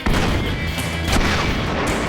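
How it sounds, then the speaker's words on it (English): A loud, sustained explosion booms in the Minecraft video game, a dense roaring blast that fills the whole moment with rumbling crackle. "Hello, explosion."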